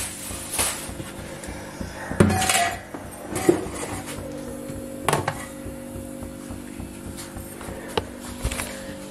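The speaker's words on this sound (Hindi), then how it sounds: "तो मैंने सूजी ले ली है थोड़ा सा घी डाल देती हूँ कढ़ाई में और टमाटर भून के" Metal utensils clink and scrape against a kadai while semolina is roasted with ghee and tomatoes in a home kitchen, with scattered irregular knocks and clatters over a steady background hum.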